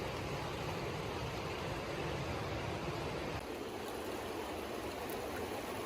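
A river runs steadily after its level has dropped from a morning flood that reached the banks, a continuous close rushing and gurgling of water with no voices.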